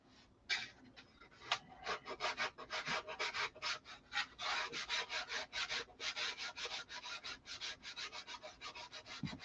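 Hand sanding on a Viper car body gives a quick, rhythmic series of scratchy rubbing strokes, close and fairly quiet, continuing steadily without speech.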